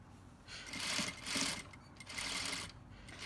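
A sewing machine stitches a seam on a gathered dashiki skirt in short bursts, its motor whirring up and down at moderate volume with brief pauses between runs.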